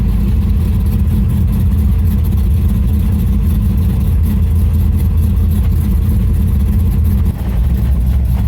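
A drag racing car with an LS-swapped V8 makes a pass, a loud, close, steady low engine roar that holds its power for the full length with no voices over it.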